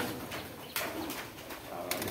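Young pigeons coo softly in a steady, low murmur at a pigeon farm, with a few brief rustles or wing flutters nearby.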